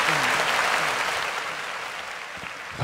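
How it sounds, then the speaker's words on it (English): An audience breaks into applause, a dense, loud crackle of many hands clapping at once that holds steady and fades slightly toward the end. "Round of applause."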